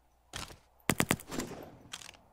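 MP5 submachine gun in the 7 Days to Die game (Ravenhearst mod) firing a sharp three-round burst, with single loud shots before and after. The reports are close, punchy and clipped, with brief gaps between them.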